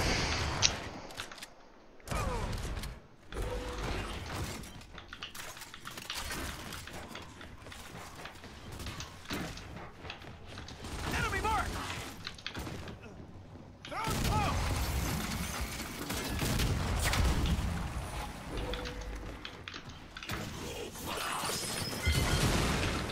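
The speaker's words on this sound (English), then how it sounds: "Flashbangs, man." Flashbang grenades go off in a tactical shooter, sharp bursts and bangs scattered among gunfire, footsteps and muffled game noise over about twenty seconds, with a player talking intermittently.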